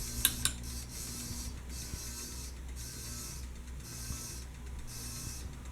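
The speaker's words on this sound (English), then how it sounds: "it makes that buzzing sound on low. I think that's the motor." CEC hugger ceiling fan motor running on low speed, giving a steady low electrical buzz with a faint airy hiss, quiet and constant with no talking.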